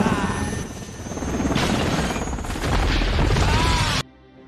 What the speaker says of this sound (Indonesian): Pilot tidak bisa mengendalikan helikopter Black Hawk dan jatuh di sarang musuh.